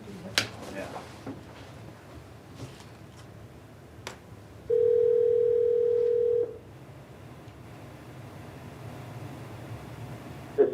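Telephone call tone over a speakerphone at a school board meeting, a steady electronic beep held for about two seconds, clear amid the soft room noise and scattered clicks of the meeting.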